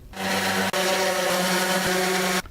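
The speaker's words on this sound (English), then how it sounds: "it is now time to give everything a good sanding." Steady, continuous abrasive rubbing of sandpaper on wooden outdoor patio chair parts, close up, with a brief break partway through before it resumes.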